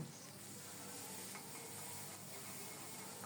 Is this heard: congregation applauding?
no